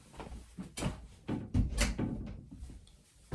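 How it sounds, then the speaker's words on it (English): An indoor door swings shut with a few soft knocks and a firmer thud near the middle, followed by quieter rustling and handling noise. "I'm going to close my door."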